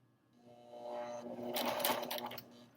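A sewing machine starts up and runs a short forward burst of stitches at the beginning of a seam, a fast mechanical whirring close by in a quiet room.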